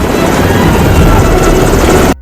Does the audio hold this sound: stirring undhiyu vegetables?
no